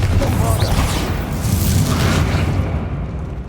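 A Confringo blasting spell explodes in a Harry Potter video game with a loud, sustained boom, and a roaring, crackling blast fills the whole stretch.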